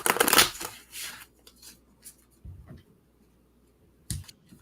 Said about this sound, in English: Don't mind me. I'm shuffling cards.